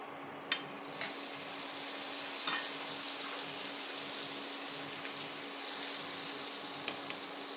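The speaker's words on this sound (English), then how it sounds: "As you can see, it's sizzling perfectly, and we have a nice crust that has formed." Polo al pane, chicken in a bread crust, fries in a pan with a steady, even sizzle and crackle, broken by a few light clicks and pops, with no voices.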